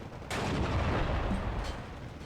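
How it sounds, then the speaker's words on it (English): M5 gun firing high-explosive shells in the video game Steel Division II, a single loud, close boom with a booming rumble that rolls on and fades slowly. "It's gonna start shooting HE shells"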